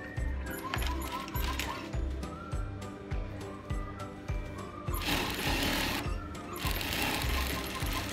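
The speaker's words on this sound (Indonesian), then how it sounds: "Jahitkan setengah inci juga." A sewing machine stitches a pocket onto a robe, its needle thumping in a fast regular rhythm in bursts, then running steadily and louder toward the end.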